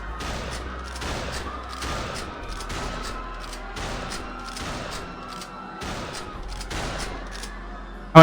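Video game gunfire rings out as a fast series of sharp, evenly spaced shots, about one a second, loud and continuous for several seconds with no talk over it.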